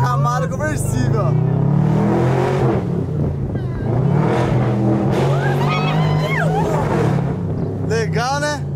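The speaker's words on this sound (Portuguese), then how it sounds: "É o Camaro conversível." A Chevrolet Camaro convertible drives along with a loud, close engine drone that rises and falls as it accelerates, while several people talk excitedly inside the car.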